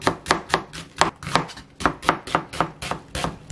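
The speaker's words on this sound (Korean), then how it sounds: "요거 한 팩은 또 잘라서 이렇게 양파 반 개 하고요" A knife chops onion and golden enoki mushrooms on a board: about a dozen firm, evenly spaced chops in a quick steady rhythm, close up, with no talking.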